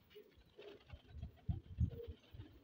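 Pigeon cooing on a rooftop: soft, low throaty coos repeating in a loose rhythm, close but faint, with no one talking.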